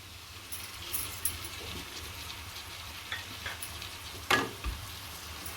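Tomato puree hits a frying pan of prawn rice, the kolambi bhat base sizzling softly with faint stirring scrapes and a few sharp metallic clinks of a spoon against the pan.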